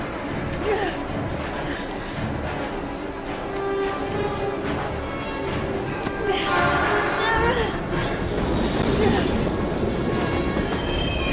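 A train rolls past in the video game Heavy Rain, with a continuous rumble, rhythmic clacking of wheels and metallic squeals building over about eleven seconds, while voices speak over it.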